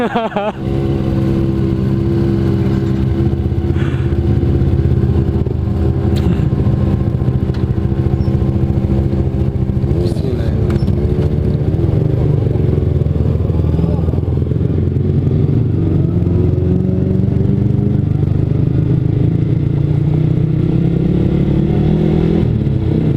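Kawasaki ZX25R motorcycle with an aftermarket DX exhaust, its engine running steadily and loud throughout with a few revs, close by, while someone talks over it.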